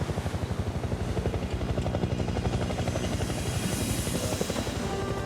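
A helicopter drones steadily overhead, its rotor chopping in a fast, even pulse with engine whine, loud and continuous throughout.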